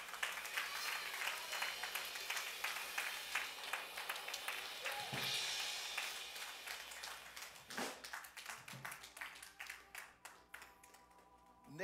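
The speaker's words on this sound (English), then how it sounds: "we ought to give God a hand clap of praise." Congregation in a church service claps hands in praise, a dense sustained patter of many hands that thins into scattered, irregular claps toward the end.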